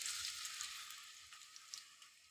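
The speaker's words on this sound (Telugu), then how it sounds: "ఆనియన్స్ మంచిగా రెడ్డిష్ కలర్ వచ్చే వరకు కొంచెం మనము ఫ్రై అనేది చేసుకోవాలి." Chopped onion sizzles and fries steadily in hot oil for a mixed vegetable curry, a continuous bright crackling hiss with small pops throughout, no voices.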